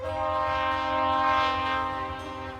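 A BNSF freight train horn blares loudly and steadily close by, a sustained chord over the low rumble of the passing train on the former CB&Q line near Machens, Missouri.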